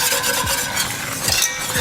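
Flour roux for mac and cheese cooking in a pan, with a constant close sizzle and a whisk or spoon stirring and scraping in rhythmic passes and no voices.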